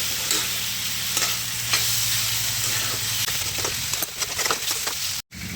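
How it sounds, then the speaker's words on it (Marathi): Vegetables being stir-fried with jaggery until it melts for a dry vegetable dish, a loud continuous sizzle with constant close stirring and scraping, then a brief cut near the end. "आता हा गुळ विरघळेपर्यंत तरी परतून घ्यावा लागणार आहे"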